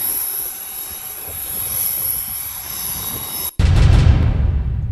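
Aircraft engine roar, steady and fairly loud with a broad hiss, then an abrupt cut to a louder, closer low rumble for the last second and a half; no talking.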